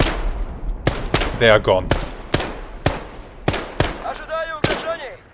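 Gunfire in the Purgatory campaign war game: a string of loud, sharp shots about once a second, plus a short burst, heard near and under a man's brief speech.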